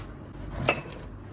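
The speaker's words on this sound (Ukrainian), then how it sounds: "І тепер закриваємо кришечкою" A single faint clink of a metal lid against a glass jar of marinated stuffed baby peppers, one short bright contact over quiet kitchen background.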